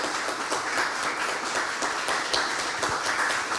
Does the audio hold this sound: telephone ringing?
no